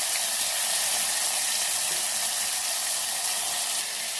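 Sliced tomato frying in a pan for Kerala-style rasam, giving a steady, close, bright sizzle that holds unbroken throughout with no talk.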